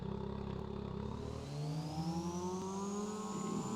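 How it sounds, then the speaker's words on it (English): A vehicle engine in the game Farming Simulator 22 drones steadily and climbs in pitch as it accelerates, its V8-like burble thinning toward a buzzy lawnmower-like tone, heard alone without talk. "it's lost the V8 burble and gone to a more like a lawnmower engine"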